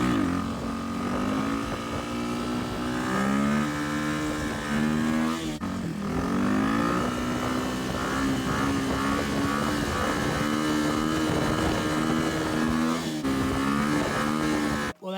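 Chopper motorcycle with a newly installed springer front end out on a shakedown ride, its engine loud and close, droning steadily with several rises and falls in revs as it shifts and accelerates.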